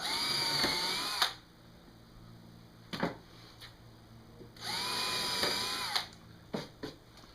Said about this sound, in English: pre-drill my holes